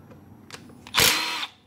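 A power drill loosening bolts on a GY6 scooter stator gives a short, close burst of high whine lasting about half a second, preceded by a few faint clicks.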